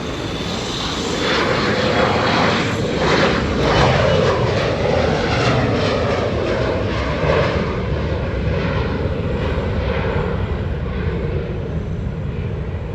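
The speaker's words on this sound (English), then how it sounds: "Alaska Airlines heading to Santa Rosa Flight 3401 and an Embraer E175LR." An Alaska Airlines Embraer E175LR jet departs on the runway at Hollywood Burbank Airport, a loud, sustained engine roar that swells quickly and then holds steady.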